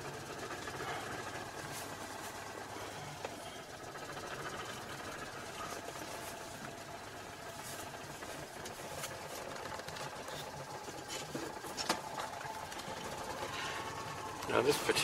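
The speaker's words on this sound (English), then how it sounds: "they do take a reasonable time to warm up, these air-cooled engines" An air-cooled car engine idles steadily while warming up, with a continuous low mechanical chatter at moderate level and faint voices in the background.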